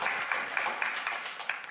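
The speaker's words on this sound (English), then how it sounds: "Give me a round of applause." An audience gives a round of applause, a short steady burst of clapping heard fairly close.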